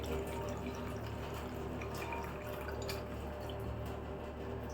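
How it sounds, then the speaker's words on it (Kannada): Water streams steadily into a pani puri spice mix, a close, continuous pouring and trickling sound with faint drips on top. "ಈ ಥರ ನೀರು ಹಾಕ್ಬಿಡಿ"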